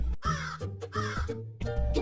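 A crow caws three times in quick succession, close and clear, each harsh call ringing briefly before the next, in a children's tale about a thirsty crow.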